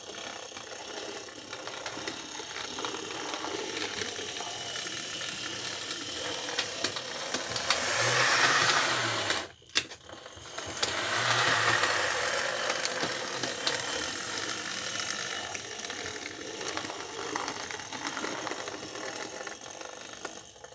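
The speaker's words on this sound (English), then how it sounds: "This is an old XO3 /4 motor as well, so it's pretty damn sweet considering how old it is." An old XO3/4 motor drives a second-hand ready-to-run model train locomotive, giving a steady mechanical whir with a ratcheting gear texture that swells briefly, cuts out for a moment and then resumes at a constant level.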